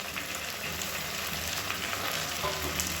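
Onions frying with mint and coriander in a pan, a steady, fairly soft sizzle and crackle throughout, with no voices.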